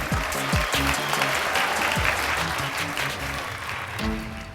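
Applause from an audience standing to greet Marie Monroe's arrival at a graduation party, steady and dense throughout, mixed with music carrying tonal lines underneath.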